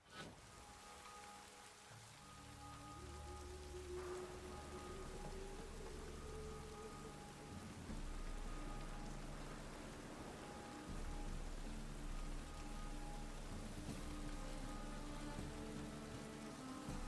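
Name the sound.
rain in The Witcher 3 video game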